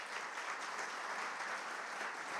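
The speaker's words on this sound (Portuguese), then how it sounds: "Queria que a igreja desse um aplauso a Jesus." A church congregation applauds steadily throughout, a dense, even wash of clapping from many hands with no pauses or voices rising above it.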